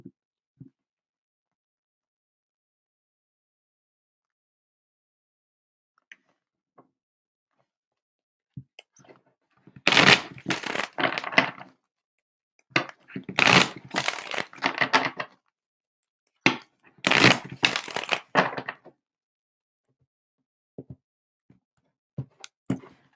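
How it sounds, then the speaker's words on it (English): Tarot cards shuffled in three separate bursts of riffling, each lasting about a second or two, fairly close and crisp. Faint ticks and small handling sounds fall between the bursts. "Let me get 2 more clearing shuffles in"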